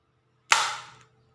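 An origami paper gun fires a single sharp, snappy crack, close and fairly loud, fading quickly into quiet.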